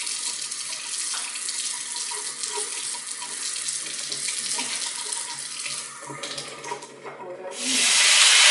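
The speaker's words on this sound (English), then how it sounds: "Put some water in the skillet." Water runs from a tap into a skillet in a kitchen, a steady bright splashing hiss that swells louder toward the end, with brief speech faintly in the background.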